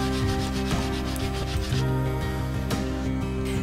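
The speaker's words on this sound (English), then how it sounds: "So I sanded off the paint, filled it with wood filler, let it dry, sanded it smooth" Paint is sanded off the wooden top of a French provincial side table with steady, continuous back-and-forth rubbing. It is close and even, with a faint tonal hum behind it.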